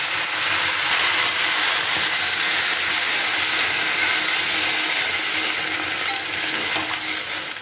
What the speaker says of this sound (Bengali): সমস্ত কিছু মিশিয়ে নেবার পরে আমি একটু পরিমাণ মতো জল দিয়ে দিচ্ছি সেদ্ধ হবার জন্য।